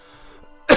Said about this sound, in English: I am getting a cough.